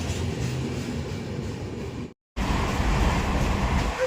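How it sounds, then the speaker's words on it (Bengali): Steady low rumble and rattle inside a moving passenger train, loud and continuous, broken by a brief dropout of near silence midway before the running noise resumes. "আমরা ট্রেনে উঠে পড়েছি।"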